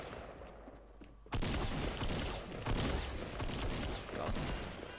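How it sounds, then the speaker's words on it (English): Gunfire in Fortnite Battle Royale erupts suddenly after a quieter moment, then continues as a sustained, loud burst of rapid shots with crackling impacts. "Oh no, we're getting shot at."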